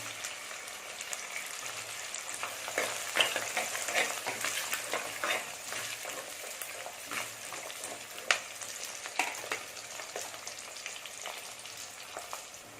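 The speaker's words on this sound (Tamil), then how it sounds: "இதை ஃபுல்லாக வெங்காயத்து கூடவே போட்டு வதக்கிடுங்க" Shallots and garlic sautéing in a pan with onions, a steady close sizzle with frequent light crackles and stirring scrapes, moderately loud and continuous with no talking.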